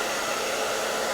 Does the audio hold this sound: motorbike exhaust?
no